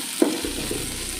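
Turkey berries frying in a pan for chutney, a soft steady sizzle with a light stir or clink near the start, close and continuous under no talk.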